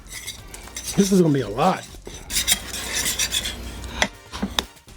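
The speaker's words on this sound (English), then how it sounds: "we're just gonna give this a nice quick mix" Spoon stirring yogurt sauce in a bowl, a run of quick scraping, clinking strokes close up, with a brief spoken remark partway through.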